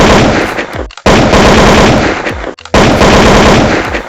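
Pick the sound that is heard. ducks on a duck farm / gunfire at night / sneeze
gunfire at night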